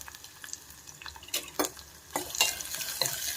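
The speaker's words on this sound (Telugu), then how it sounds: "ఇవి బాగా ఫ్రై అవ్వాలి" Onions and green chillies frying with curry leaves in a pan, a soft sizzle broken by a few sharp stirring scrapes, close and fairly quiet, with no talking.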